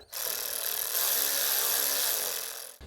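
A power tool runs in one steady, loud burst for about two and a half seconds while snugging down the oil filter housing bolts on a Jeep 3.6 engine, then cuts off abruptly.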